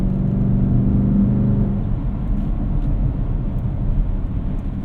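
A 2014 Porsche Cayenne GTS with its exhaust baffles open gives a steady, loud low rumble from inside the cabin, droning evenly with small surges throughout.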